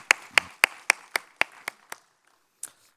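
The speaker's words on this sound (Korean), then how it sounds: "우리 하나님께 영광의 박수를 올려드립니다" A church congregation at a Wednesday worship service claps together in a steady, evenly spaced beat, about eight crisp, close claps, then falls quiet before one last stray clap.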